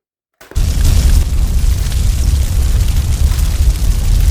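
A sustained, loud rumbling boom kicks in abruptly after a short silence and roars on without pause for several seconds, a dense, close, heavy blast-like noise.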